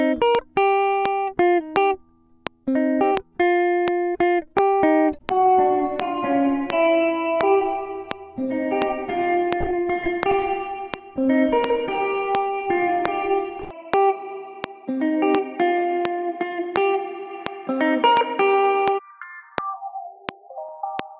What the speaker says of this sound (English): So we have a loop now. Let's process it a tiny bit. Start with the compression, then the reverb, then the EQ.